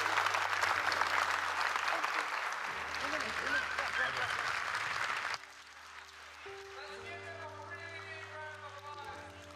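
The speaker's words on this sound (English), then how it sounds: "So if you'll give a round of applause, please, to all these volunteers with the Tzu Chi Foundation." Applause from an audience honoring Tzu Chi Foundation volunteers at a retreat, dense clapping for about five seconds before dropping to a quieter room with faint murmuring.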